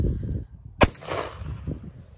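A single sharp rifle shot outdoors at a thrown clay skeet, one loud crack in the middle of quiet ambient noise.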